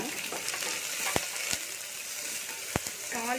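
Garlic pieces, chilli and curry leaves frying in oil, a close continuous sizzle broken by a few sharp metallic clicks of a spoon against the pan.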